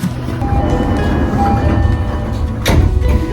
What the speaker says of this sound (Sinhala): මම සින්ජුකු වලට යන ට්‍රේන් එක ආවා